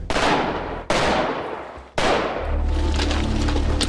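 Three sharp, loud gunshots from police SWAT gunfire, each followed by a long decaying echo, the last giving way to a steady rumbling background.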